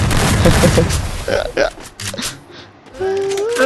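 Bursts of gunfire from the video game Garena Free Fire crackle at a moderate distance, interspersed with thumps and clatter, ending with a louder rumbling passage.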